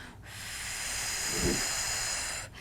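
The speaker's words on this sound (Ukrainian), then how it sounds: "Спокійно дихаємо, можемо поставити губи трубочкою." A steady, breathy hiss of air blown out through narrowed lips, continuous for a couple of seconds, close to the microphone with no talking.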